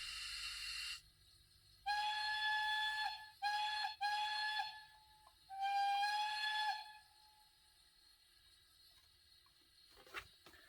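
A series of high, chime-like steam whistle blasts from a DCC sound decoder in an Accurascale Manor 7801 model steam locomotive, one long, two short, then another long, ring out cleanly against near silence, with a faint click at the end.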